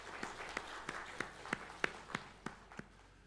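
A church congregation clapping together to welcome visiting family members, about ten sharp claps in an even, steady rhythm, moderately close in a reverberant hall.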